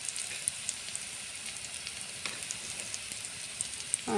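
Onions frying in a pan with turmeric just added, giving a steady, dense sizzle with faint crackles throughout and no voices.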